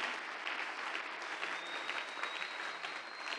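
A church congregation claps in a sustained burst of applause, dense and steady throughout with faint crowd murmur beneath.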